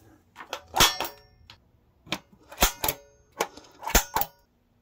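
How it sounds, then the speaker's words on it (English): Center punch struck against marked rivet hole points on metal wheel well panels for a vintage camper, heard as sharp metallic taps, mostly in quick pairs and triplets, close and fairly loud. "Now I'm just gonna center punch each one of these."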